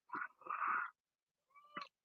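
A cat meows twice at close range, one short call then a longer drawn-out one, followed after a pause by a brief chirping meow in a quiet garden setting.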